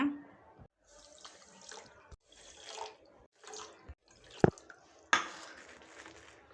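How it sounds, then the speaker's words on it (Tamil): Water poured into a pan of sugar for rasmalai syrup in several short splashing bursts separated by pauses, with a couple of sharp clinks of metal near the end. "சர்க்கரைக்கு வந்துட்டு நாலு மடங்கு தண்ணி ஊற்றிக்கோங்க"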